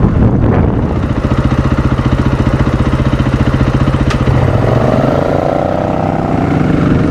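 A supermoto motorcycle cruising at 110 on an expressway gives a loud, steady engine drone with a buzzing harmonic whine close up. Partway through, the engine note shifts and settles into a smoother, lower tone.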